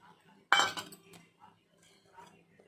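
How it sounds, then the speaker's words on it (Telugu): Metal pan set down on a stove, one sharp clinking clatter followed by a few faint lighter taps in a quiet kitchen. "ఇప్పుడు మనం స్టవ్ వెలిగించుకొని ఒక ప్యాన్ పెట్టుకోవాలి"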